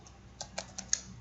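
Four crisp keystrokes on a computer keyboard, evenly spaced and close, set against a quiet room with faint background hiss.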